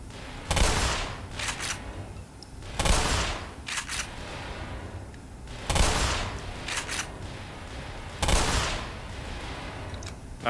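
Gunfire in the video game Black Mesa, four loud booming shots spaced a few seconds apart, each followed by a short rattle of smaller cracks, standing out clearly against a steady background.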